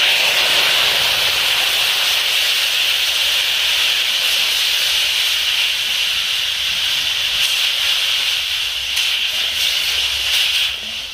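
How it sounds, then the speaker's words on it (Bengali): Water poured into hot caramel in a kadai for misti doi hisses loudly and steadily, a continuous steamy sizzle that barely eases over several seconds. "ক্যারামেল হয়ে গেছে, এর মধ্যে আমি 3 কাপ জল দিয়ে দেব।"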